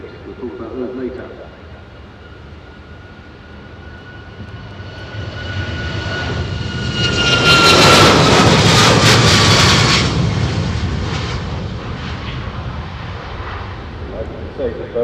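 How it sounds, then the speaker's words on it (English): A Boeing 737 MAX jet at an airshow during its takeoff run, engine roar building from a distant rumble to a loud swelling peak, then fading away, with a commentator talking over the roar throughout. "737 starting his takeoff run. This is the 737 MAX."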